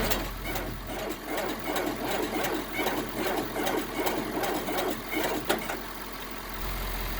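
A John Deere 4250 tractor with 6,890 hours labours through a hard cold start, its engine cranking and chugging in a steady, rough rhythm at close range before cutting off near the end.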